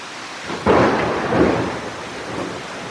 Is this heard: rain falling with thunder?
yes